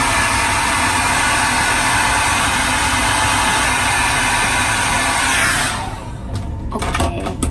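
A hair dryer blowing close and loud to dry wet bangs, a constant rushing whoosh that holds steady before cutting off near the end, followed by faint handling clatter.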